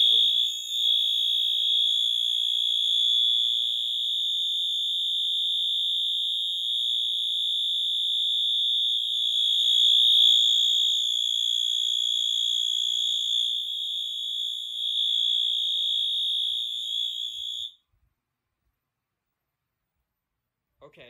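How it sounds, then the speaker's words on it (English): A loud, piercing electronic fire alarm tone from an activated smoke detector on a Silent Knight SK 6808 fire alarm system blares continuously for a long stretch, then cuts off abruptly into near silence. "we're going to go ahead and start by activating the smoke detector"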